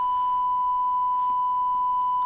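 A DumboRC brushed micro ESC's low-voltage buzzer alarm sounds at 10.9 volts on a 3S lipo, a steady, shrill electronic tone held unbroken and fairly loud for the whole stretch, with no voices.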